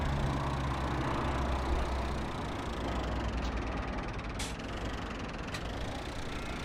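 A Massey Ferguson tractor engine runs in Farming Simulator at a steady low drone, loud and continuous, with a few brief clicks near the end.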